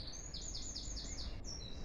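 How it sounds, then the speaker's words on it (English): Several birds chirp and sing in a spring back garden, a repeated run of bright high tweets at moderate distance over faint outdoor background, with no talking. "Listen to the birds."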